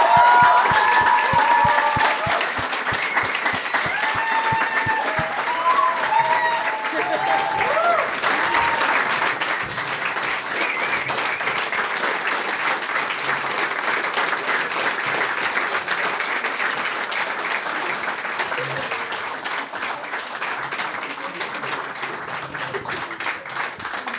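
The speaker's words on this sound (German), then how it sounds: "Kommt einmal auf die Bühne zu uns und einen großen Applaus." An audience applauds the mentor team called onto the stage at Jugend hackt Österreich 2016, a dense, sustained clapping that stays loud throughout. Voices and a few shouts rise over it in the opening seconds.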